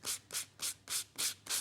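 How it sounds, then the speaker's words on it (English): A flat sanding block rubbed over an embossed card image, six even back-and-forth strokes in a steady rhythm, soft and close with no talking. "I'm going to give it a little sand to reveal that beautiful design."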